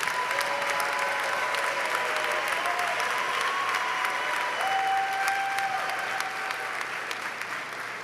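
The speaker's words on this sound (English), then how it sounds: "Let's give a round of applause for all of those graduates" An audience claps for graduates at a ceremony, sustained even applause filling the hall throughout, with faint tonal hum from the room system underneath.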